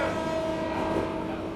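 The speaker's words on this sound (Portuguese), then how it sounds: "O trem ficou parado aqui por 1 minuto no máximo e já estamos partindo." An Argentine passenger train pulls out of a small rural station, giving a steady, loud rumble with a faint sustained tonal whine over it and no voices.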